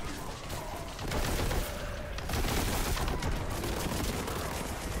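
Heavy bolter blasting away in the shooter Warhammer 40,000: Boltgun, a dense, continuous roar of rapid gunfire and impacts that swells louder in bursts and never lets up across the stretch.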